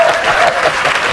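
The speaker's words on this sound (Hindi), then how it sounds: "जोरदार ताली बजाएं यार हमारे मेहमानों के लिए" A studio audience at an Indian TV comedy show claps loudly and continuously, a dense, close wash of applause.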